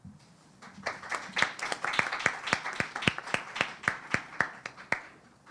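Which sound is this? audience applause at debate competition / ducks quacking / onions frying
audience applause at debate competition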